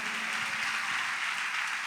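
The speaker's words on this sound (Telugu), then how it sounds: "హుషారుగా కొట్టండి చప్పట్లు" A church congregation claps together, a dense, steady wash of applause filling the short stretch without pause.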